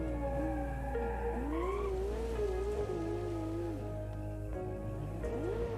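A simulated car in the BeamNG driving game, handling like a raw 70s or 80s sports car, oversteers with sustained wavering tire squeal over a loud, continuous engine drone.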